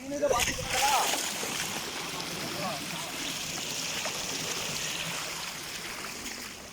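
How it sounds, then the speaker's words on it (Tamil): Floodwater from a pond overflowing after record heavy rain rushes steadily nearby, a continuous broadband roar with splashing, with a few bumps near the start. "முத முத தண்ணி இப்படி நிறைஞ்சு ஓடுது"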